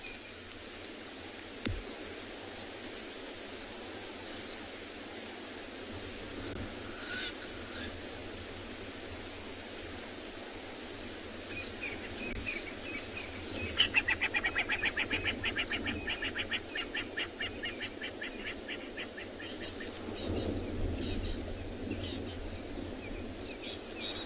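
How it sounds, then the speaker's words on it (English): Varied bird calls of crested francolins, starlings and other species greet the dawn on a South African safari morning, mostly faint and distant over steady hiss, with a louder burst of rapid repeated chirps midway. "There's crested francolins, birch-billed starlings, red-crested corehorn I can hear in the background."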